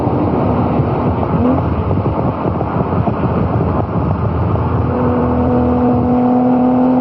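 A Lamborghini Countach races at about 180 miles an hour, a continuous roaring engine drone with heavy wind rush, steady and loud with a rising tonal whine partway through.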